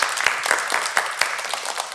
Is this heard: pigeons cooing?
no